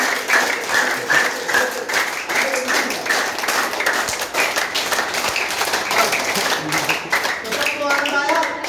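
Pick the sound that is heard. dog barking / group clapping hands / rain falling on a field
group clapping hands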